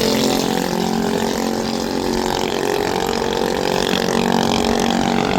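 Motorcycle engines idling and revving on a very crowded road during a Dak Kanwar pilgrimage procession from Haridwar, a loud, continuous mechanical drone with slight swells.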